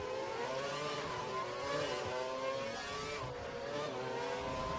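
Racing cars roar steadily in the F1 2012 video game at the British Grand Prix, several engines droning together at high revs with shifting pitch, continuous and fairly loud throughout.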